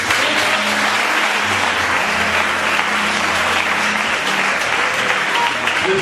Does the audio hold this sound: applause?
yes